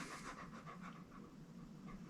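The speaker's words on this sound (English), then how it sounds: "he pants in the background" Pet dog panting quietly in a room, a soft rapid rhythmic breathing in short bursts, faint and steady in the background.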